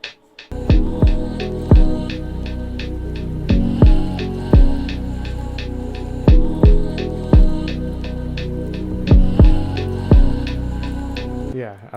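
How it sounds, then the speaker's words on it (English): A lo-fi drum beat plays loud and looping, crisp hi-hat ticks over thumping kicks with swooping low drops, repeating in a steady groove after a short quiet start. "So let's start with like a lo-fi hi-hat."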